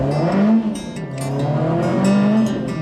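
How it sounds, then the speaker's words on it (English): A modified car with carbon fibre parts is driven hard, its engine note rising and falling as it revs, with the tone climbing through gears at close range. "Man, does it feel good to drive this car."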